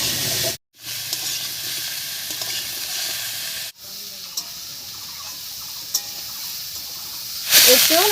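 Potato pieces fry in hot oil over a spice tempering for a vegetarian jackfruit curry, giving a steady close sizzle broken by a short pause and repeated stirring scrapes, with a brief louder burst near the end.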